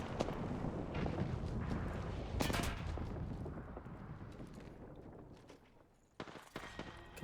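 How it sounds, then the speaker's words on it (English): Missile strikes in the battle royale game Apex Legends land as muffled, fairly distant booms and sharp bursts over a low rumbling background, fading and then returning near the end. "I'm gonna see if one of my missiles lands on there."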